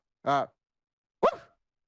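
A man imitates a dog with his voice: two short, separate bark-like woofs about a second apart, close and clear with silence around them.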